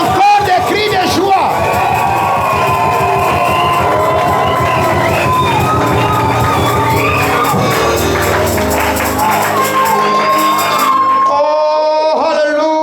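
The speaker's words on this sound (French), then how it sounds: "Encore des cris de joie." A church congregation at a service in Kribi shouts and cheers for joy, a loud, sustained wall of overlapping voices and whoops that carries on without a break and tapers off near the end.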